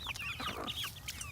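Buff Orpington hens clucking in a backyard flock: several short, overlapping clucks and chirpy calls, fairly faint over a low steady background hum.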